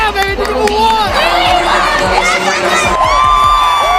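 A packed crowd of about 6,000 at a WNBA draft party cheers and screams, loud high-pitched shouting and whooping from many voices with thumping bass underneath.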